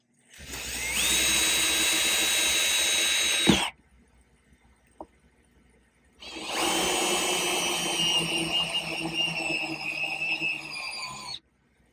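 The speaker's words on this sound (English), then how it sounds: "We'll get close, and we'll start drilling" A high-pitched drill whines steadily through aquarium glass in two long runs separated by a quiet pause with a small click, close and loud.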